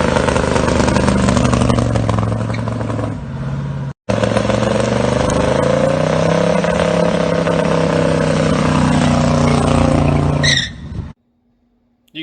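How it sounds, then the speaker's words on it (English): A big block Buick engine roars loud and close, revving hard and sustained through a burnout, with a brief cut near the four-second mark before the steady growl returns and then drops away abruptly at the end. "we were going to put together a big block Buick and not do some burnouts with it"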